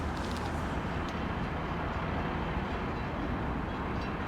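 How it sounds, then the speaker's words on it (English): A train passes near an RV campsite as a continuous broadband rumble and roar, steady and fairly loud throughout, with faint high squeaks flickering in the first second. "A train? That's what I got to deal with?"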